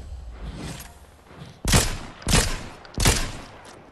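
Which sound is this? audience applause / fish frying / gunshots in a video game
gunshots in a video game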